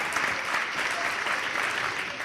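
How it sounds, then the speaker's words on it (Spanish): An audience applauds the winner of a raffle during a comedy monologue, producing a continuous, full round of clapping at steady strength. "¡Ese aplauso tío!"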